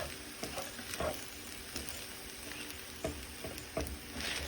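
Rice stir-fried in a pan, a soft steady sizzle with scattered scraping and clacking strokes as it is stirred, no voices.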